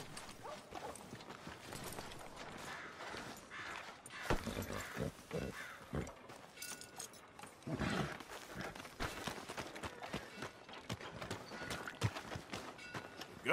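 Faint, irregular clip-clop of horse hooves on a hard surface in Red Dead Redemption 2, with scattered clatter and background ambience.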